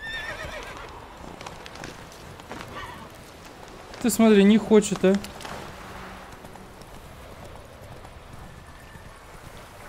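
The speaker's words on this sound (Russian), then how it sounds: "Вроде лошадь должна там перепрыгнуть, все такое." Horse in The Witcher game, with hooves clip-clopping throughout and a loud neigh breaking out in the middle, under someone talking in Russian.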